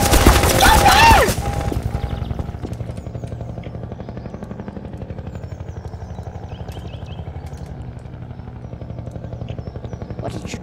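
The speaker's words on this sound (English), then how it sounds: "Oh, chopper." A helicopter in the Garry's Mod video game thuds with a steady rotor chop and a low mechanical drone throughout. A loud burst of noise with a brief shout opens the sequence.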